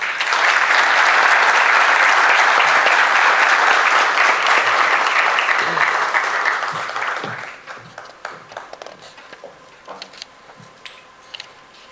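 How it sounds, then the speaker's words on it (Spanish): Dense audience applause fills a hall at a diocesan centenary book launch, strong and sustained for several seconds before thinning to a few scattered claps. "Un último aplauso."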